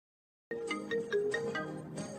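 A phone ringtone announces an incoming call, a bright melodic electronic jingle that cuts in after brief silence and plays on steadily and clearly, with no one speaking over it.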